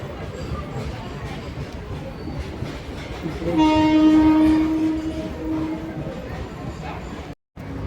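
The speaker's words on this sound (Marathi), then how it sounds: "मालगाडी" A freight train rumbles steadily past close by, with a long horn blast partway through before the rolling noise carries on.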